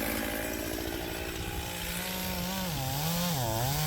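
A Stihl MS-291 chainsaw cuts through big ash firewood, its engine droning loud and steady up close, then dipping and surging in pitch as the chain bites into the log.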